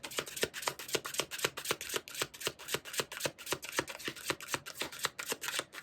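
Tarot cards are shuffled in a steady, rapid run of crisp riffling flicks, close and fairly quiet, with no voices.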